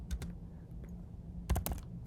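Quick clicks of typing on a computer keyboard while writing code, a few soft keystrokes early and a tighter burst of taps near the end, close and quiet.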